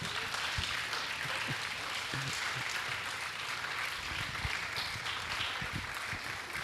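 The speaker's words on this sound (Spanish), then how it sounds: "Yo os invito ahora a que convirtamos nuestra fragilidad en un aplauso a la obra de Marcelo." A crowd at a book presentation applauds in a soft, continuous wash of many hands, sounding distant and fairly faint throughout.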